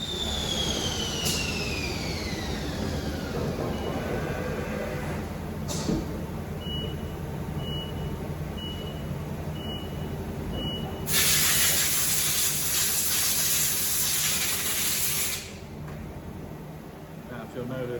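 CNC machine cutting spring pockets on a 4070B part, with a steady mechanical hiss and hum throughout, a short series of high beeps, and a loud burst of spray or air blast near the end.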